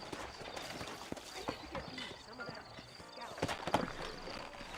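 Horse hooves clip-clopping at a steady gait in Red Dead Redemption, with a horse's neigh and other game ambience, moderately loud and continuous.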